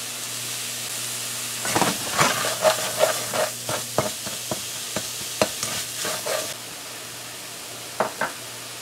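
Shrimp frying and being stirred in a pot for a Guyanese kalonji recipe, with steady sizzling and a run of scraping, clattering stirs that stop, then two more brief knocks near the end.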